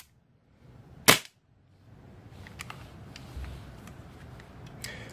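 A vintage Wesson Arms airsoft pistol fires a single sharp, loud crack close by, followed by quieter handling clicks and light rustling.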